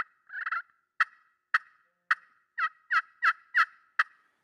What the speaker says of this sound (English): Add any cluck in there.